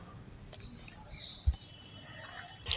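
A computer mouse clicks on a construction workers' welfare board website: a few crisp, isolated clicks with a faint, soft background hiss.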